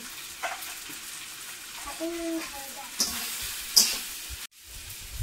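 Turmeric, salt and spices sautéing in a home cooking pan: a soft, steady hiss with a few faint clinks and scrapes, and a brief quiet break near the end.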